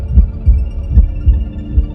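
A deep, thumping heartbeat sound effect pulses loud and close in steady double beats, about two per second, over a low hum.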